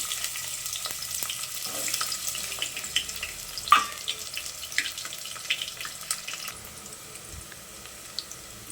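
Onion frying in hot oil in a home kitchen pan for a potato and drumstick curry, a steady crackling sizzle with scattered pops and light clinks throughout, fairly close, no talking.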